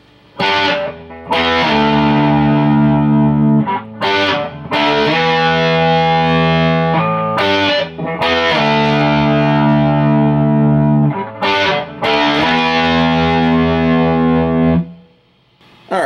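A distorted electric guitar plays a riff, repeating in loud chunky phrases, each chord struck and held with short gaps between, ending in a brief silence.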